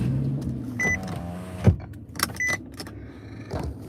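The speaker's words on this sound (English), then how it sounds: "Let me start the car." A car engine is started, with close mechanical whirs and clicks, short buzzing tones and a few sharp knocks in a quiet interior.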